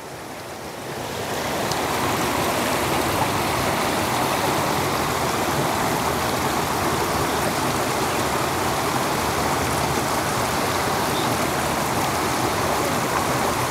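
A stream in Vagamon, Kerala flows over rocks and among screwpine plants, a continuous broad rushing wash that swells in over the first two seconds, then stays loud and steady.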